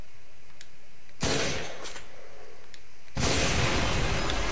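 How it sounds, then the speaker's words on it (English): Explosion in the video game Modern Warfare 3 on Wii: a sudden loud blast cuts in, eases off, then a second harsh burst of noise follows and keeps going, with no talk. "Did I just set that explosion on?"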